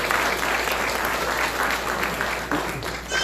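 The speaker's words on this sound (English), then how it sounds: "Let's give her a big round of applause." Loud, sustained audience applause at a live show in Lauderhill, with dense clapping filling the whole stretch and fading slightly near the end, no speech over it.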